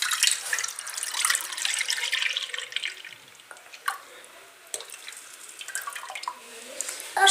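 Colostrum milk poured from a bucket into baking trays, a soft trickling, dripping liquid stream with irregular splashes, close and fairly quiet, tapering toward the end.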